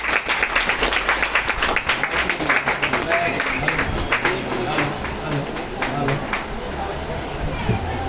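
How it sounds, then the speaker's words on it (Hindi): An audience claps for guests at a ceremony for an orphanage foundation, a dense, sustained round of applause with a brief crowd cheer as it settles, fairly loud throughout. "ऐसे अतिथियों के लिए जोरदार तालियां"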